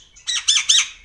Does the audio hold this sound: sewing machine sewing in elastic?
no